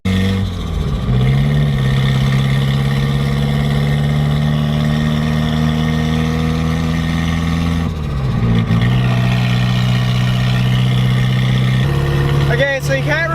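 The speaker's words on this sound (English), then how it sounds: "we are driving the 240 right now" A Nissan 240 with an SR engine drives along, its engine drone loud and close, pitch rising and falling as it shifts gears; a brief rattle comes near the end, while talk from the cabin is buried under the engine.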